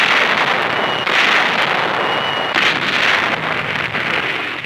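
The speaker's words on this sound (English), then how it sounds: "The minute the German guns opened up" German artillery guns open fire during a 1945 wartime landing in Europe, a loud, continuous rumble of distant bursts and crackling blasts that overlap into a steady roar.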